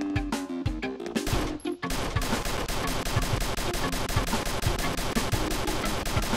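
Rapid, continuous shotgun fire in the 2D action game Mercenary Kings, a dense stream of loud blasts after a short choppier opening, with no talking.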